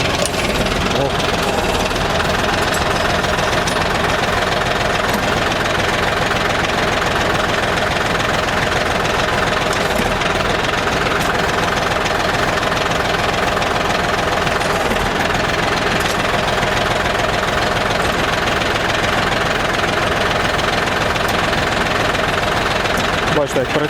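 A DTZ 354U tractor engine runs steadily at close range while its hydraulics operate, a dense continuous rumble with a knocking idle texture throughout; someone talks over it at times.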